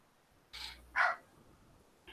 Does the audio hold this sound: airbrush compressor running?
no